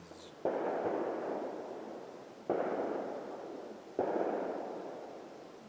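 Three loud gunshots nearby, evenly spaced a couple of seconds apart, each a sharp crack followed by a long rolling echo that fades slowly, with no talking.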